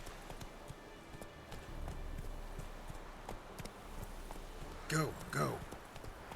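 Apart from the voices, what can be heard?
horse hooves trotting in video game The Witcher 3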